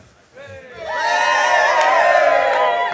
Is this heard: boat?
no